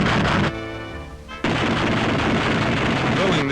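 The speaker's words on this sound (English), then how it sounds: "testing the guns," Machine guns on a WWII P-47 fighter being test-fired by ground crew, a loud, dense, continuous burst of rapid fire with a brief drop in the middle.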